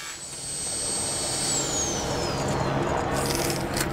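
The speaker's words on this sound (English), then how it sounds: "In this case, we used a Makita with a HEPA attachment, but you could use any drill you really want to." A Makita drill with a HEPA dust attachment, mounted on a SkyDrill quick-pull drill press, whines steadily and loudly, its tone sliding as it runs. No one speaks.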